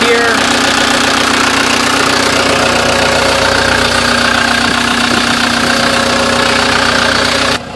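A Cat 287B skid steer loader's engine runs steadily at idle with a constant mid-pitched drone and mechanical knocking, close and loud throughout, cutting out near the end.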